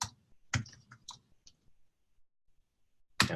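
Computer keyboard typed on in a few short clusters of sharp clicks with quiet gaps between, close and dry, without talking.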